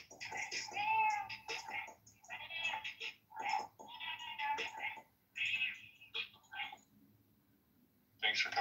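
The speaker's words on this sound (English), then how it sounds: "This is cat rap" Cat rap song built from cat meows, bursts of yowling meows chopped into a rhythmic pattern with pauses between phrases, heard fairly faintly.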